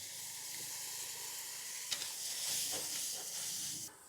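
Masala frying in a pan sizzles and hisses steadily after a little water is added, with a brief sharp crackle partway through and brighter spluttering toward the end, close and alone without voices.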